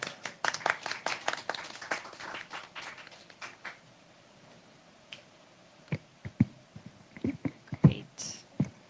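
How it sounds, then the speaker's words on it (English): Scattered applause from a small audience greeting a technical director as she takes the stage at a session: a burst of irregular claps that fades into quiet, followed later by a few sparse claps and taps, with faint whispering in the room. "Please let's give her a round of applause."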